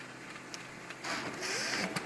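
An OKI 332 printer running a print job, a steady mechanical whir with faint clicks that swells to a louder, busier feed-and-print noise partway through, heard alone up close.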